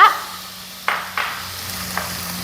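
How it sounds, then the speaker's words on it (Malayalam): Carrot, egg and chicken stir-fried in butter for a homemade chicken pulao meant for dogs: a soft, steady sizzle broken by a few sharp spatula scrapes against the pan, close and alone without talking. "പിന്നെ ചിക്കൻ എന്നിട്ട് ഇതെല്ലാം കൂടെ നമ്മൾ ബട്ടറിലൊന്ന് മിക്സ് ചെയ്യണം"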